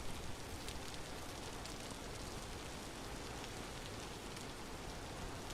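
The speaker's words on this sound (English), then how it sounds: "There's a lot of rain in this part of the world, which is good, but it's also kind of annoying." Rain falls steadily in the survival video game Vintage Story, a dense, even hiss of drops with no let-up, soft and constant throughout.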